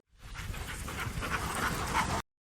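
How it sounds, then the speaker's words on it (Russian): Sled dogs at a dog sled race in the French Alps pant in rapid, breathy bursts, fairly close, with faint whimpers, before the sound cuts off abruptly. "Во французских Альпах проходит гонка на собачьих упряжках."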